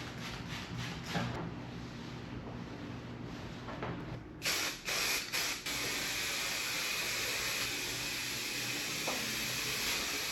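Diluted alcohol is sprayed from a spray bottle onto an Integra car side skirt, giving a sustained close hiss that starts abruptly midway after a few short spritzes, alone without talk.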